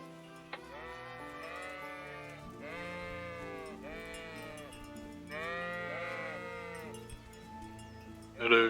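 Sheep in Kingdom Come: Deliverance bleat repeatedly, three or four drawn-out wavering calls spaced a couple of seconds apart, clear and fairly close over quiet game ambience, ending with a brief sharper noise.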